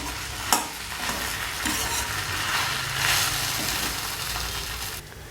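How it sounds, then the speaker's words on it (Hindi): Spiced potato filling for cheese paratha roasts in a pan, giving a steady, close sizzle with stirring scrapes and one sharp knock near the start. "इसे 2 से 3 मिनट के लिए इसे हम अच्छे से मसालों के साथ में अच्छे से भून लेंगे"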